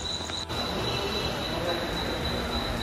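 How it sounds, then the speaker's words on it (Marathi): A train at a Mumbai station, with a steady loud rumble and a sustained high wheel squeal running through, and no pause. "ही ट्रेन आहे आता आपल्याला"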